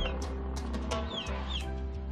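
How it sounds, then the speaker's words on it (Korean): Backyard chickens, hens and a rooster, cluck close by in a series of short, uneven calls over a steady low background hum. "놀부는 지금 캔디와 다니가 알을 낳으러 들어갔다는 것을 알고 있다."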